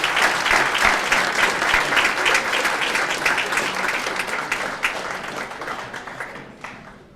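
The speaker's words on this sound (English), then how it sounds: "a big round of applause for all the Staten Island High School All-Stars" Applause for the Staten Island High School All-Stars at a sports hall of fame induction dinner: a full room of sustained, dense clapping that holds steady for several seconds, then tapers off at the end.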